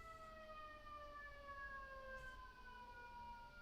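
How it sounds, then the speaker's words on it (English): Faint, distant sirens wail from a big street near a highway, their steady drawn-out tones gliding slowly downward throughout, with no voices present. "You can hear sirens in the big street."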